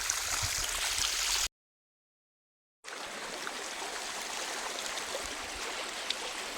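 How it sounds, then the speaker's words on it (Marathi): Water released into an irrigation canal by sugarcane fields rushes with a continuous broad gushing hiss nearby, cut by a brief dead-silent gap before the steady flow resumes. "कॅनलला पाणी सुटलं"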